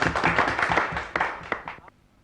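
A small group claps in short, scattered bursts at a gathering for an arriving politician, the applause fading out just before the end.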